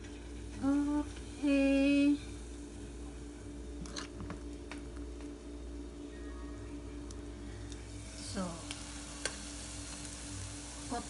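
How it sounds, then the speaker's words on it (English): Okra omelet egg mixture sizzles softly in a frying pan, a low continuous hiss with a few brief voiced tones early on and scattered light clicks from the pan. "slowly we add some mixture in the pan"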